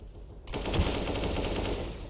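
Rapid gunfire in a competitive Counter-Strike match, with AK rifle fire, bursts in abruptly after a brief quiet moment and continues as a dense, sustained stream of shots.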